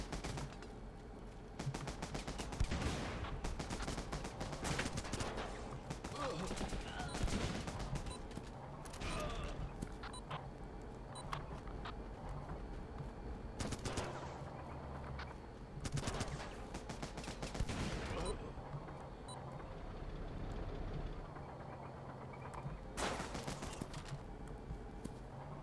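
Gunfire in the war game Running with Rifles, with repeated shots and automatic bursts crackling through a busy, continuous battle mix of explosions and game noise, with some talk in the background.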